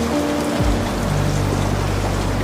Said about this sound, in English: rain continues its steady percussion against old glass